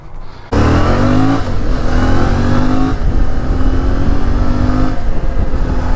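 A motorcycle with its stock exhaust roars up close, revving and pulling hard in repeated surges, its exhaust note rising and dropping, with no one talking.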